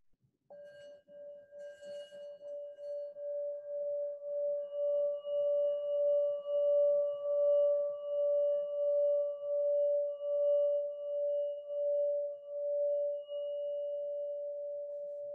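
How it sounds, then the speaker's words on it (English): Tuned singing bowls, each matched to a chakra, ring out in a pure sustained tone that swells in slow pulsing waves and hangs steady for a long time, clear and alone. "the singing bowls actually are tuned to the different chakras"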